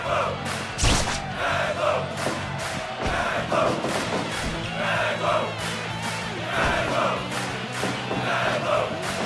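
A house wrestling match crowd roaring and shouting steadily in fan enthusiasm, with occasional thuds rising through the sustained noise and no commentary over it.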